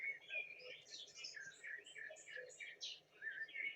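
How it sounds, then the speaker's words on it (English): Small birds sing in a quick, bright string of chirps and warbled notes, fairly faint and continuous over a quiet low background. "Listen to the birds. Hear them sing."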